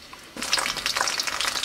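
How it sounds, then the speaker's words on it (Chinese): Scallions, garlic and ginger slices fry in oil for Sichuan chili oil. A brief quiet opening gives way to a sudden, lively, bubbling sizzle that stays close and steady. "把它煎至这个葱白变得焦黄，这个蒜的颜色也变黄了以后，就可以关火了"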